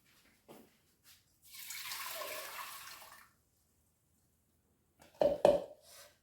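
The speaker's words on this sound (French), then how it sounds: "nous allons mettre 700 ml d'eau dans la cuve" Water pours into the tank of a cooking pot, about 700 ml, in a short soft splashing stream, followed moments later by a few louder clunks and taps, with no talking.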